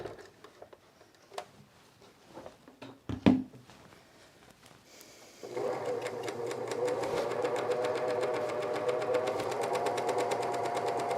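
A cover stitch sewing machine freshly rethreaded with white thread starts up after some clatter of handling, then runs steadily and fast with a dense, even mechanical patter for several seconds.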